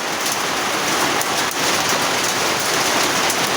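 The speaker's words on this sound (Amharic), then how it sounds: "ይሄ ዝናብ እንደምታዩት ደብረ ብርሃን ከተማ ነው ያለው ነው እና በጣም የሚገርም ዝናብ ነው።" Heavy rain falls on Debre Birhan city, a loud, dense and steady hiss of drops striking surfaces that fills the whole stretch with no talking.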